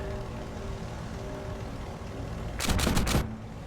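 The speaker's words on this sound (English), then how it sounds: "Getting shot at pretty good right about there" Gunfire in a video game rattles at a Martlet Mk IV aircraft as a short, loud cluster of rapid shots near the end, over a steady engine drone.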